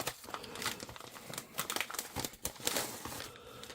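Paper envelope crinkles and rustles continuously as it is handled up close during an unboxing, with irregular crackling peaks and soft tearing-like textures.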